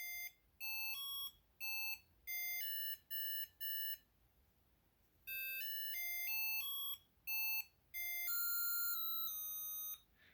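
A homemade electronic alarm clock beeps out a bright melodic tune in short bursts of tones, pausing briefly between phrases, fairly quiet and with no voices.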